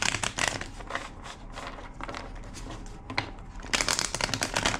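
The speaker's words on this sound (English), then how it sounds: "2 more shuffles." Cards being shuffled close up, rapid riffling bursts with brief gaps between them, crisp and papery.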